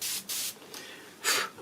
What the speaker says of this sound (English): I use this, which is like a spray of salty water with magnesium